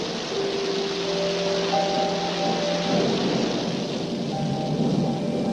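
Steady heavy rain pours down, a dense hiss with a low rumble beneath and faint sustained tones drifting over it.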